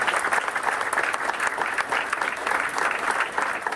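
Staff in the Wall Street Journal newsroom break into sustained applause, a dense, even roomful of clapping that carries on steadily without pause.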